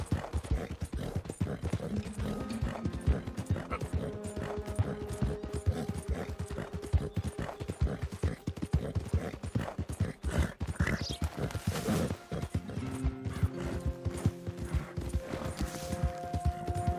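Horse hooves clip-clop steadily in Red Dead Redemption 2, a continuous rhythmic trot on a road, loud and close over music-like tonal layers, with an occasional snort or whinny.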